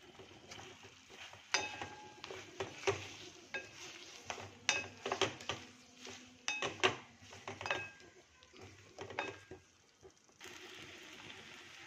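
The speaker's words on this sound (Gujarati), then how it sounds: "હવે આપણે નાખીશું મકાઈ એને પણ આપણે મિક્સ મકાઈ કરી લઈએ" Corn kernels are stirred with spices and garlic butter in a pan, giving a quiet scraping and clinking of a spoon against metal with soft sizzling underneath, repeated in irregular strokes.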